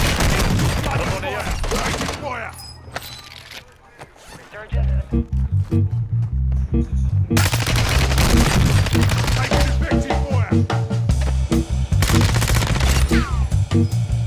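Video game gunfire on the Vondel map: loud, rapid bursts of automatic fire and shots dominate most of the stretch, with a brief lull near the middle, mixed with game music and effects.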